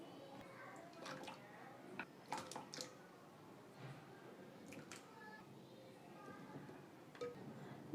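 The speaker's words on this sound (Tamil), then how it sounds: "நம்ம நீளமாக இந்த கழுவி வச்சுருக்கிற இந்த உருளைக்கிழங்கு எல்லாத்தையும் நம்ம இந்த தண்ணியில் சேர்த்துக்க போகிறோம்" Soft splashes and wet plops as cut potato pieces drop into hot salted water one after another, quiet and close, with small clinks between.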